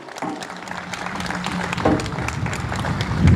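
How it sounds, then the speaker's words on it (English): Scattered clapping builds into steady applause from a crowd at a public school event, swelling slightly toward the end. "Can we give him a round of applause, please?"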